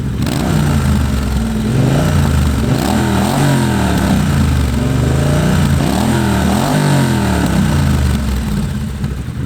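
A Triumph Bonneville motorcycle engine with stock silencers revs repeatedly, rising and falling in pitch through a deep, throaty exhaust note, loud and close, with no talking.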